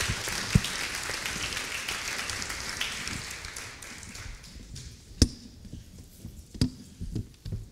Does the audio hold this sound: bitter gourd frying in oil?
no